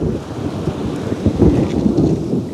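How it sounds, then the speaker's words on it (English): Low rolling thunder rumbles beneath steady rain falling on a beach, a dense continuous wash with the deep roll swelling in the middle and easing off. "You hear thunder?"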